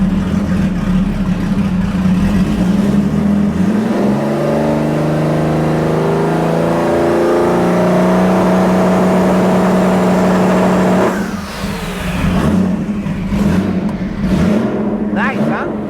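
Nissan 350Z drag car engine revving loudly with a new launch map, a sustained rising and holding drone for about eleven seconds before cutting off, followed by sharp pops and bursts.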